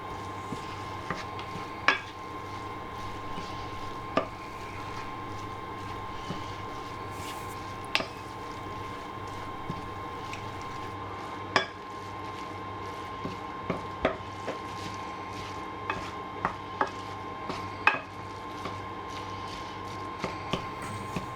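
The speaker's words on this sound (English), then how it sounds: "Just keep stirring it until it's all mixed in." Minced beef and onion savoury roll filling being stirred in a bowl, with a low steady soft squish under scattered light clinks of spoon against bowl spread across the whole stretch.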